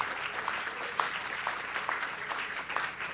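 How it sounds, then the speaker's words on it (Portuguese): A crowd at a book fair event applauds for the journalists, a continuous moderate patter of many hands clapping evenly with no talk over it. "Palmas para os jornalistas."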